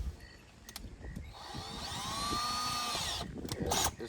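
A power drill bores out rivets holding a convertible top cable on a fourth-generation F-body car, a rising whine that builds and holds for about two seconds, with clicks and clatter before and after.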